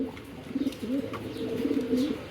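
A pair of grizzle pigeons, a female and a male, coo close by in repeated rolling, throaty phrases that overlap into a steady murmur, with no talk over them.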